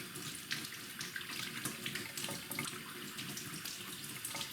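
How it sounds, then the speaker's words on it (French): Vegetables, including red cabbage, carrots and potatoes, being washed under a running kitchen tap, with a steady splashing stream into the sink and scattered spatters throughout. "nous allons nettoyer les légumes"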